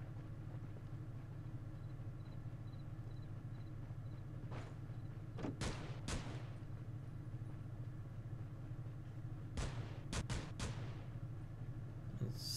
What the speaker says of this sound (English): And I heard pistols as well.